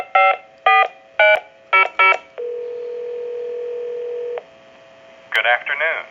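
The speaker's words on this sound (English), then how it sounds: "we'll call a time and temp number" A Ferrari novelty telephone dials a time-and-temperature number: five loud, evenly spaced touch-tone beeps, a long steady tone, then a short warbling burst, all close and clear.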